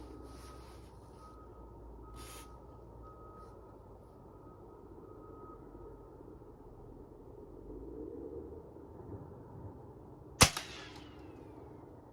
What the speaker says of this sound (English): Man, I shot right above it again.